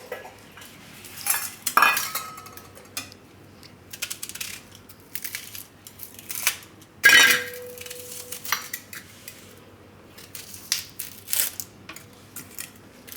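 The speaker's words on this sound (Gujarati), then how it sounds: "તો આ ડુંગળી છે એને આપણે ઝીણી સુધારી લેવું." A knife chops onion finely on a board, a quick irregular run of crisp taps and clicks with louder bursts, close and fairly quiet, with no voices.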